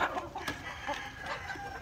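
Young chickens on a farm, soft clucks and clucking calls repeating close together over a steady background hum.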